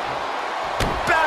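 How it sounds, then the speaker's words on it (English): Wrestling backbreaker slam in the video game WWE 2K23, two quick heavy impact thuds over a steady arena crowd roar, with commentary voices around them. "Backbreaker."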